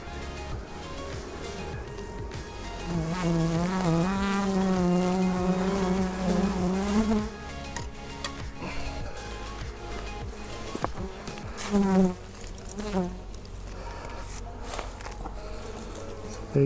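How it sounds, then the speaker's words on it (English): Honey bees hum around an open backyard hive, a dense, wavering drone close to the microphone that swells and shifts in pitch, with a faint voice heard now and then. "It's a bunch of bees."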